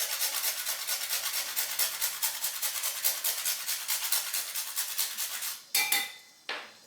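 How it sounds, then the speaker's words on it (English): Nutmeg rubbed against a metal grater for about a quarter teaspoon, a steady fast scraping rhythm close up, followed by a couple of sharp clinks near the end. "I'm going to grate about 1/4 teaspoon of nutmeg"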